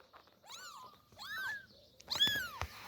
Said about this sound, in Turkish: Miyav miyav yapıp duruyorlar duydun mu?